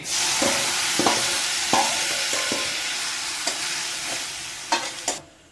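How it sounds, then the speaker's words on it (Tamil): Onions sauté in a pan for a Tamil stir-fried vegetable dish with curry leaves and fennel powder, making a continuous sizzle broken by several distinct scraping knocks of a spatula stirring against the pan, and no voices. "வெங்காயம் வதங்கிருச்சு"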